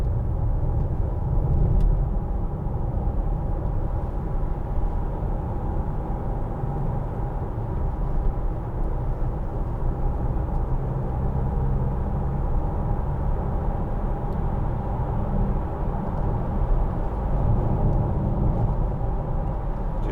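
A 2012 Land Rover Freelander 2 TD4 cruising on a rough motorway, heard from inside as a constant heavy low road rumble and engine drone with faint tyre roar, steady throughout and without talk.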